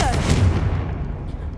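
Confringo spell blast from Hogwarts Legacy: one sharp, booming burst that decays quickly into a short rumble, with a voice calling out at the start.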